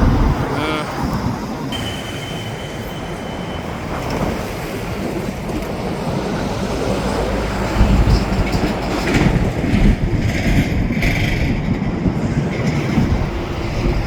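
A freight train of tank cars and hoppers rolls past near Sapperton. Its wheels clatter steadily with rhythmic clicks, and a low rumble builds as the cars go by.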